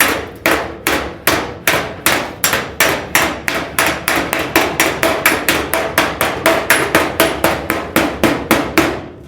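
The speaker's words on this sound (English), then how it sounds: "even with a claw hammer, you can make some stuff happen" A claw hammer strikes the body metal of a 1937 Zephyr again and again in a fast, steady rhythm, each loud, close blow ringing briefly before the next, with no talking.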